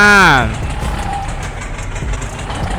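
A tractor engine in Farming Simulator 22 idles with a low, steady rumble after a short loud vocal exclamation at the start.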